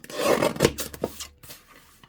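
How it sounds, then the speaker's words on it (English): Scissors or a blade trimming paper edges for a junk journal, producing a few close, dry rasping cuts and rubs over about two seconds, louder at first and then fading. "So we're just going to trim all the edges so that they're definitely straight."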